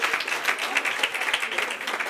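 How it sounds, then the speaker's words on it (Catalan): Short burst of applause from a school audience for a student leaving a spelling contest, fairly close and even, with no talking over it. "Un aplaudiment per ell"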